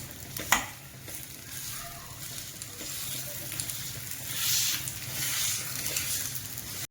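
Soft dates being mixed and mashed with a masher for a sugar-free dry fruit date roll, giving a continuous close squishing, stirring texture with a brief knock near the start and no talk.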